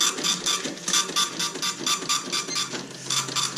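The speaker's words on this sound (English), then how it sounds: "Going to go to our kitchen printer, print the receipt." A SAM4s SAP-530FT kitchen printer prints a receipt beside the register, giving a rapid, steady buzzing chatter of short repeated bursts, close and fairly loud, with no talking.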